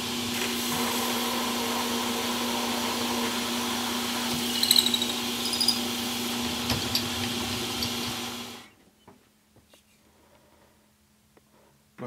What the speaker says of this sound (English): we'll go ahead and fire up the machine and start cutting.